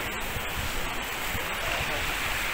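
Sea waves at Uppada beach near Kakinada at dusk, a steady broadband wash of surf rolling in without distinct breaks, moderately loud and continuous for a few seconds.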